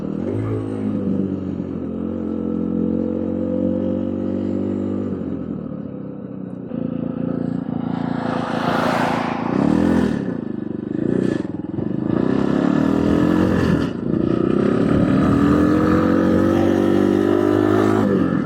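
A cheap street-legal 250cc dirt bike climbing uphill, its engine droning steadily and close, dipping and rising as gears shift mid-climb, with some clatter and scraping from the rough ground.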